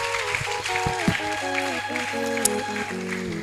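A church congregation claps while sustained keyboard-like music plays; scattered hand claps sit under the held musical tones rather than forming a full roar of applause.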